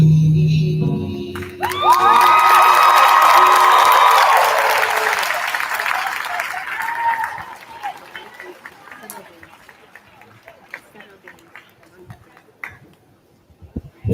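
High school class of 2021 graduation audience bursting into loud applause and cheers with whoops and shouts, swelling quickly and then fading into scattered claps and crowd chatter, with a voice speaking over it.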